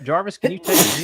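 A single loud sneeze bursts out right after a quick spoken line during live storm-chasing coverage, close to the microphone.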